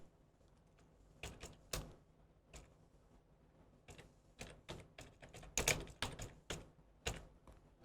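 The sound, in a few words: typing code on a computer keyboard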